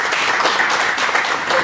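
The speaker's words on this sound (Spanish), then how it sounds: "Vamos a dar un aplauso al licenciado Mario Correa" Audience applauding at a financial seminar as a licensed speaker is welcomed to the microphones; dense, steady clapping throughout, fairly loud and even, with no voices over it.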